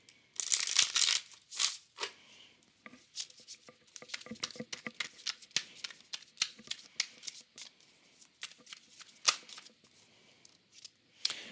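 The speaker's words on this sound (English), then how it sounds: "Let's pull a card for the feminine energy for Scorpio" Tarot cards shuffled and pulled from a deck, with crisp riffling bursts at the start followed by a steady run of soft, close card slaps, flicks and rustles.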